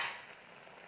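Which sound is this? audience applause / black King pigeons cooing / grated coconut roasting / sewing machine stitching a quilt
grated coconut roasting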